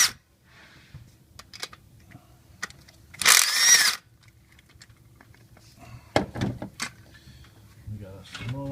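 Clicks, light knocks and one brief harsh rasping burst as an ignition coil is unclipped and pulled from a Chevy 4.3L V6 engine, with faint scattered handling noises in between.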